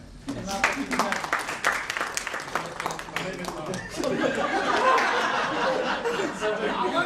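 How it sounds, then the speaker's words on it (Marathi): Seminar audience applauding two participants, a burst of claps with scattered chuckles and chatter that swells into louder continuous applause. "दोघांसाठी टाळ्या"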